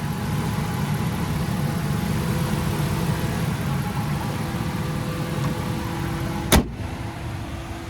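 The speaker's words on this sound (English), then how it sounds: "there's that Hemi V8" A 2018 Ram 1500 Night Edition's Hemi V8 idles steadily under its open hood, a close, continuous low rumble that ends in a short sharp knock near the end.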